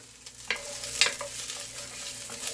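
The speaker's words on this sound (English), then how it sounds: "And give that a stir." Shallots and rice being stirred as they fry in a pan, a soft sizzle running throughout with a few brief scraping strokes of the utensil, close and fairly quiet.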